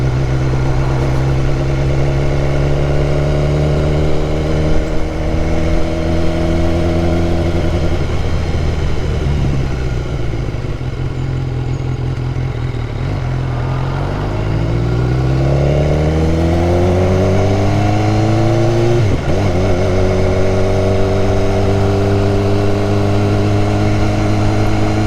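A 2014 BMW S1000R motorcycle engine drones loudly while riding, holding a steady tone, then climbing and falling as the rider shifts through gears, with constant rushing wind.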